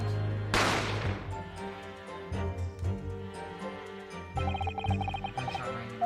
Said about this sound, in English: Gunshot rang in my ears.